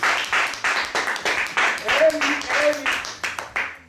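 An audience claps in a steady rhythm to welcome a visiting couple from France at a church gathering. The clapping is close and lively, with voices calling out across the crowd.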